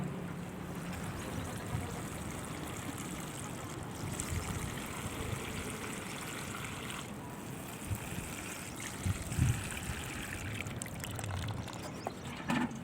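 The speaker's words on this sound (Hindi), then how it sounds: "पानी दे लेंगे, आखिरी काम जो है हमने पानी देना है" Watering a freshly transplanted Euphorbia royleana in a big pot: a steady, soft pouring and trickling stream that runs continuously, with faint gurgles and splashes.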